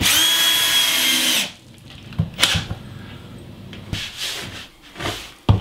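A power drill runs in one loud burst while driving screws into wall studs during plasterboard patching in a hall and stairway, followed by scattered knocks and handling clatter.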